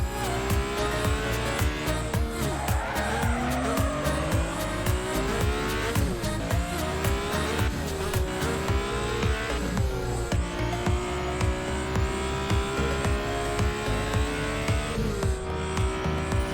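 A racing car in an animation drives toward a city, its engine roaring loudly and continuously with rising and falling pitch as the tires squeal, with no talk.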